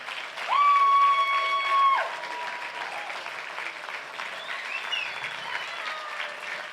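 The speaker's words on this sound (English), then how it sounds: "Keep that applause going." Event audience keeps up applause as people walk to the stage, steady clapping with cheers and a loud whoop early on, continuing at moderate level throughout.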